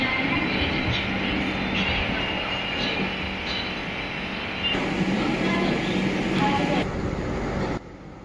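The Gondwana SF Express passenger train departing Agra Cantt railway station from platform 3 at night, a loud continuous rumble and rolling wheel noise that stays steady, then drops in level near the end.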